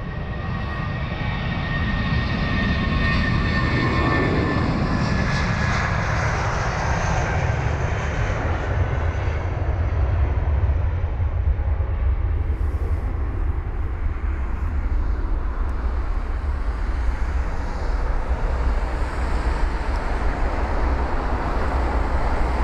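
A British Airways Airbus A320ceo departs Heathrow on flight BA852 to Prague, its engines building into a loud, sustained takeoff roar with a rising whine early on, then a broad rumbling thrust that slowly recedes.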